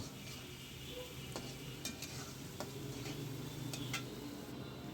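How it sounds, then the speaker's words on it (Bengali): Grated carrot stirred in a cooking pan, giving soft sizzling with light scraping and occasional sharp ticks of a spoon against the pan; close and quiet, with no talk. "এখন আমি এটাকে ভালো করে নেড়ে চেড়ে একটু সেদ্ধ হওয়ার জন্য অপেক্ষা করব"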